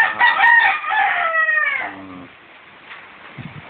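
A hen on a Philippine farm gives a loud, drawn-out crowing call up close, the notes falling and fading over a few seconds, followed by quieter background farmyard noise.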